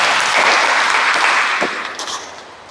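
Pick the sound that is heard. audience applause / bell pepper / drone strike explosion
audience applause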